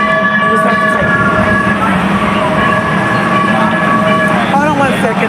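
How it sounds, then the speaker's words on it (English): A train arrives at a station with a loud, continuous rumble of wheels and carriages, while steady tonal whines and squeals from the rails rise and fall across it. "The train just came."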